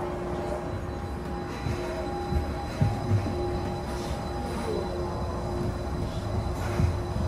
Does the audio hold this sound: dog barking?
no